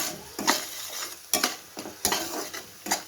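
Turmeric and cumin powders are sautéed in a pan under a low sizzle, with five distinct bursts of spatula scraping and stirring at roughly even intervals, close and with no talking.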